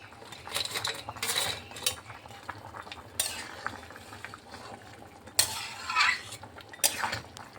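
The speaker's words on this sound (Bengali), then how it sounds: "এখন আমি এখানে ভেজে রাখা পনিরটা দিয়ে দিচ্ছি" Fried paneer goes into a pot of vegetable curry with bottle gourd and potato, with bursts of spoon-against-pot clatter and stirring over a soft simmering bubble, loud at irregular moments and quieter between.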